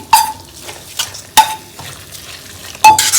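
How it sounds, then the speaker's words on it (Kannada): Tempering stirred into eggplant bhajji, a few short clinks of a spoon against the pan, each followed by a brief bright sizzle, close and sharp with quiet gaps between. "ಇದಕ್ಕೆ ಒಗ್ಗರಣೆಯನ್ನು ಸೇರಿಸ್ಕೊತೀನಿ"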